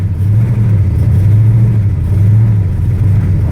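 A 1970 Plymouth Cuda's 383 big block V8 running with MSD ignition, a deep, loud rumbling idle with gentle swells in revs, close and steady throughout with no talking.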